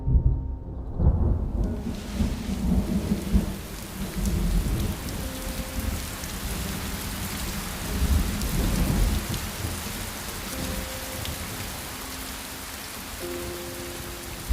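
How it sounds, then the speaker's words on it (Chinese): A heavy thunderstorm: dense, steady rain pouring down with deep rolling thunder rumbling underneath, loudest at the start and continuing throughout. "又要下雨了。"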